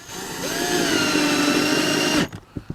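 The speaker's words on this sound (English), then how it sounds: "these are basically just coated decking screws that we're going to put in here" A power drill whines steadily at close range while driving a coated decking screw into a siding clip. The motor winds down after about two seconds, followed by a few light knocks.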